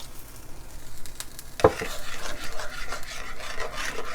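A spoon scrapes and stirs liver and onion gravy in a pan after a slurry is added, giving a soft bubbling sizzle with one sharp clink partway through, close up and with no talk.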